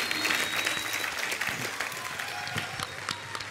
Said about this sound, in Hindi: तो एक बार फिर से अपनी अपनी मम्मी के नाम पे तालियां हो जाए।